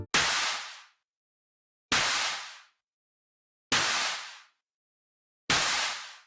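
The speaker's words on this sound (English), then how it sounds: "I pushed everything through heavy compression and distortion to end up with this." Four heavy, crushed drum hits land about two seconds apart, each a loud distorted burst that rings out briefly before silence.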